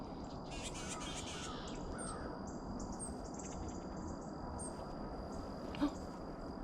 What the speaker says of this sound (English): There's a little scrub jay up there.